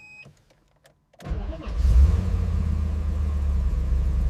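A Porsche Carrera RS 2.7 engine cranks with a few brief clicks, then catches and fires up, settling into a loud, steady, deep idle rumble close by.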